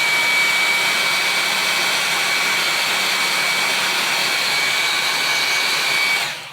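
A hair dryer blows steadily at close range over a taco fake bake dessert, a loud continuous whooshing whine with a constant high tone that cuts off abruptly near the end.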